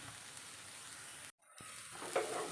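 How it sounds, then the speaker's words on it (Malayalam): Cabbage tipped into a hot pan for Kerala cabbage egg thoran, steady frying sizzle broken by a brief silent gap, then a renewed hiss as the vegetables hit the oil. "നമുക്കിനി ക്യാബേജ് ചേർത്ത് കൊടുക്കാം"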